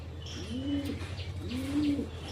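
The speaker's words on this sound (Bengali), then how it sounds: "এটা রেসার পায়রা আছে, গুড কোয়ালিটি।" A good-quality racing pigeon coos twice in close succession, each a soft, rolling, throaty call heard up close with no talking.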